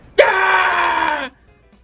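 A man imitates a screaming goat with a single loud, strained, bleating yell lasting about a second, sharp onset and abrupt cutoff, followed by near silence.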